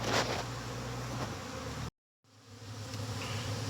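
Honey bees buzz around an open beehive, a close, dense droning hum that cuts out abruptly for a moment midway and then resumes a little quieter.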